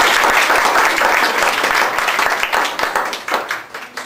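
A school audience at a biology lab presentation gives loud, close applause that is dense at first, then breaks into sparser individual claps as it winds down.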